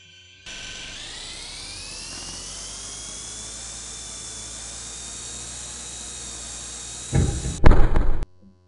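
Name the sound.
model airplane motor in a flight simulator video game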